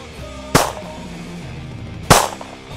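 Two sharp gunshots ring out at a shooting range, spaced about a second and a half apart, each a loud crack with a short decaying tail over quiet background.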